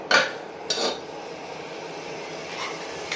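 Eggs being stirred in a cooking pan, a few sharp scrapes and clinks of the utensil against the pan near the start, then quieter intermittent contact over a low background.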